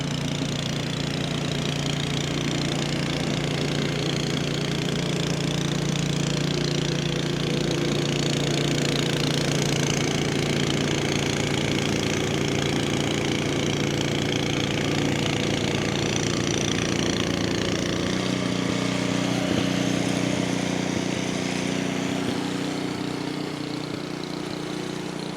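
A snow-clearing machine engine runs at an apartment building during a New York snowstorm, giving a steady, close mechanical drone that continues unbroken throughout.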